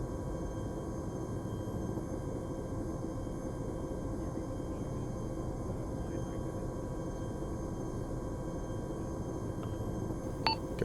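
A Chinook helicopter flies in Arma 3 during a milsim operation, a steady, loud broadband rotor and engine drone holding constant throughout with no talk, ending in a brief click.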